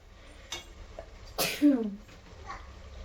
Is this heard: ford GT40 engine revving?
no